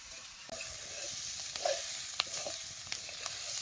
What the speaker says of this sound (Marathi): आता ह्याच्यात बेसनचं पीठ 1 वाटीवर घालायचं आणि हे बी तेलात चांगलं भाजून घेतो